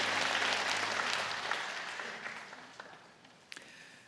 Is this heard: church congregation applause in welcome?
yes